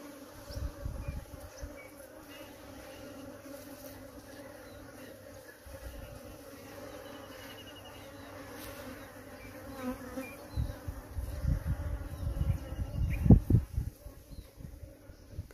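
A colony of bees, many of them young, buzzes inside an electric pole, a steady low hum that lasts throughout, with bursts of louder rustling and scraping as the comb is handled near the end.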